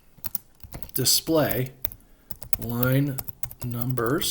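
Computer keyboard typing as Elisp configuration code is entered in Emacs, with quick clicky keystrokes running under and between a man's close-up speech.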